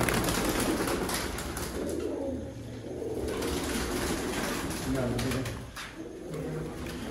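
Sialkoti pigeons coo softly against a busy background in Sialkot, and a person talks over them throughout.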